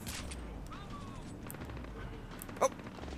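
A single sharp gunshot cracks out from Splinter Cell: Blacklist on Xbox 360, a brief loud burst standing out against a steady bed of game ambience and low voices.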